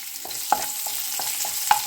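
Curry leaves sizzle in a hot pan while making a dry fish fry, a soft steady frying hiss broken by a few sharp scraping clicks of stirring, close by with no voices.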